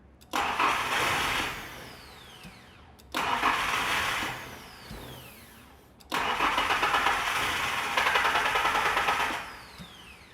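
A car engine cranks in three separate bursts to relieve fuel pressure, each a steady whirring churn of a few seconds with short silent gaps between, close and fairly loud.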